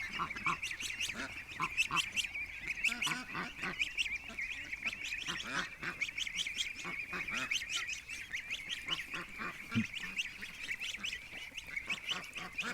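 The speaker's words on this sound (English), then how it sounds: "Oh, my geese are coming over." A flock of domestic geese honks and chatters continuously, many overlapping nasal calls forming a busy, steady racket nearby.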